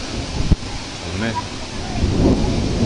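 Thunder rolls during a heavy rainstorm in Liepāja, a sharp crack followed by low rumbling over a constant hiss of falling rain and some wind noise on the microphone.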